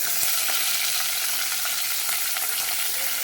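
Small shallots sizzling in hot oil alongside fennel and curry leaves, a steady, dense frying crackle close to the pan that holds even throughout, with no voices.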